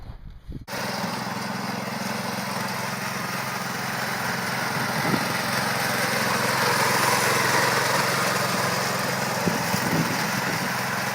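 A small restored tractor engine runs continuously at a steady, buzzing idle close by, without pause for the whole stretch.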